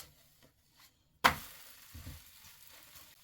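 A thin zucchini pancake turned over in a frying pan: a sudden sharp hit as it lands, then a steady soft sizzle as the second side fries, with no talking.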